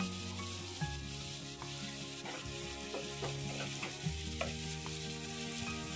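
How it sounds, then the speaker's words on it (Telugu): Two large ripe tomatoes, chopped, go into beans frying in a pan, setting off a soft steady sizzle with gentle stirring and scraping throughout, close up and fairly quiet. "బాగా పండిన టొమాటోలు 2 పెద్ద సైజు తీసుకొని ఇలా ముక్కలుగా కట్ చేసుకొని వేసుకుంటున్నాను"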